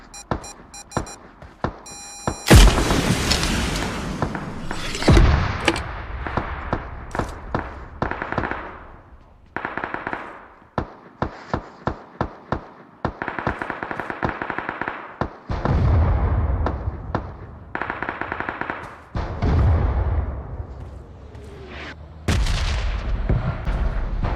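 Sharp gunshots and heavy booming blasts from tank cannons in a video game firefight, loud and close, with dense clusters of shots and repeated rumbling explosions.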